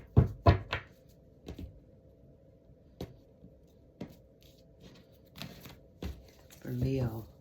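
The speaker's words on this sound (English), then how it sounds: "Just gonna cut the deck." Tarot cards being cut and shuffled: a few quick papery slaps and riffles near the start, then sparse soft taps and card handling, with a brief voice murmuring toward the end.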